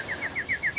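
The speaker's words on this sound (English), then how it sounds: "I can even hear the birds chirping." Small birds chirp in a quick, regular series of bright tweets, faint and distant over a soft outdoor background.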